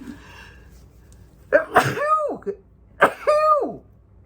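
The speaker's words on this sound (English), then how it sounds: "Hold on, gonna sneeze." Two sharp sneezes about a second and a half apart, close and loud, each with a quick breathy intake before the burst.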